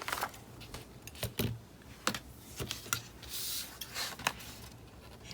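Scissors snipping through paper to cut out an octagon stencil shape, a run of short crisp cuts and rustles, close and fairly loud, with no talk.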